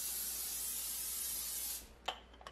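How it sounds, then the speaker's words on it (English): A steady, close hiss of extra virgin olive oil cooking spray on a heavy Dutch oven lasting under two seconds, then stopping, followed by a couple of faint light knocks. "Give my pot a little spray of some extra virgin olive oil spray here."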